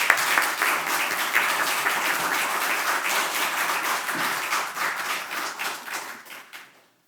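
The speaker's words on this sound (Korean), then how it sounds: "목사님 나오셔서 말씀 전하실 때 박수로 맞이하겠습니다." A church congregation applauds to welcome a pastor to the pulpit, with steady, dense clapping from many hands throughout that gradually thins and fades out near the end.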